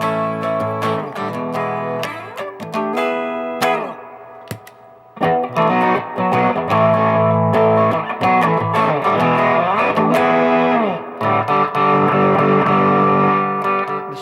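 Electric guitar run through a distortion pedal set to its clean sound, strummed chords and picked phrases with short pauses, loud and close with no talking.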